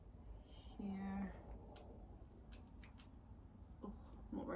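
Scissors snipping plant cuttings of curtisii, a few faint close clicks and short crisp snips in a quiet room, with soft handling noise and brief murmured speech.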